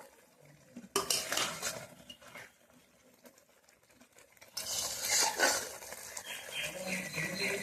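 Prawn malai curry with yogurt is stirred in a pan: a utensil scrapes and clanks against the metal in bursts, with a soft sizzle beneath and a louder stretch of scraping toward the end.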